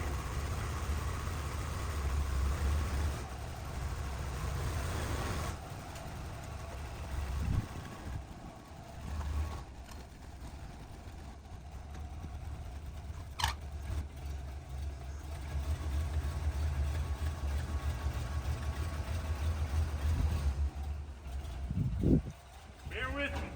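A Dodge D100 pickup with a manual gearbox, just fitted with a new starter and unused for about six months, idles in a steady low rumble for the whole stretch, with faint voices and brief outdoor noises over it.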